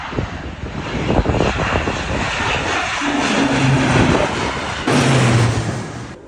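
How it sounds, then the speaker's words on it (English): A crop-dusting airplane applies fungicide over a field beside farm barns, its engine a steady loud drone that swells as it passes close overhead, with a low propeller hum rising toward the end. "We had fungicide applied via airplane to this field right along the barns."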